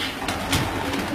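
Pigeons at a pigeon club in Gohadpur, Sialkot, giving soft close cooing over a dense, noisy background in a short burst.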